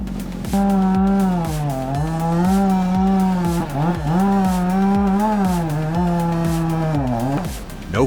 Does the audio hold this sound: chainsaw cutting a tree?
yes